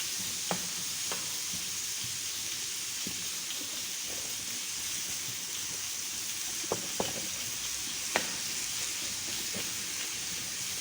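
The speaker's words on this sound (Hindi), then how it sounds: "चीनी को मेल्ट करना है।" Sugar melting in a hot pan for Afghani Kabuli pulao gives a steady, moderate sizzle and hiss throughout, with a few sharp clicks and pops standing out now and then.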